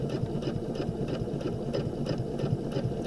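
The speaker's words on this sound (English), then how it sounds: "I'm going to sew along my curve." A sewing machine runs steadily, stitching a curved seam, its needle producing an even, fast mechanical chatter close by without pauses.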